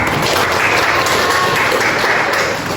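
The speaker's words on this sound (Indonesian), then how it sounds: "Tepuk tangan untuk kita semua." A classroom of children clapping together during a primary-school microteaching lesson, a dense, steady burst of applause lasting a few seconds, fairly loud and close.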